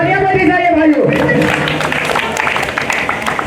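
Audience applause greets a poet at a Kavi Sammelan poetry recital: a voice speaks briefly, then dense, steady clapping from a crowd fills the hall and carries on to the end.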